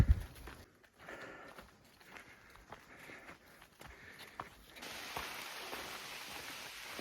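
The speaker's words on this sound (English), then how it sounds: "I'm hearing the rain, but I don't really feel it" Soft rain pattering steadily on a ridge trail in July, getting a little heavier toward the end, with faint footsteps and rustling mixed in.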